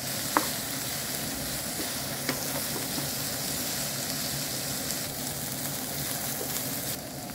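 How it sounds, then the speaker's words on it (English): Vegetables with carrot are stir-fried together in a pan, giving a steady medium sizzle marked by occasional clicks and taps from stirring. "And so now we are gonna fry them all together."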